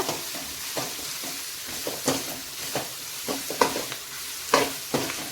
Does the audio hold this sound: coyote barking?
no